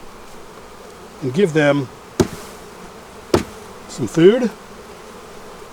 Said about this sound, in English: They could probably use some bees out of that hive